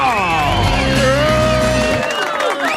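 A studio audience claps and cheers for a guest, a lively burst of applause and whoops under a host's voice, fading toward the end.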